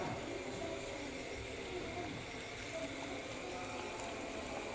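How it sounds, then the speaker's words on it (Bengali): Potato pakoras fry in hot oil in a kadai, giving a soft, continuous bubbling hiss that stays fairly quiet and even throughout. "একটা একটা করে তেলে দিয়ে দিচ্ছি।"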